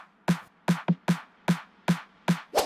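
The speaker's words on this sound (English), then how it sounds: "I've got some claps and buildup snares that sound like this" Electronic claps and buildup snares from a melodic dance track, sharp dry hits in an uneven rhythm of about eight strikes, one quick double, loud and alone with no voice.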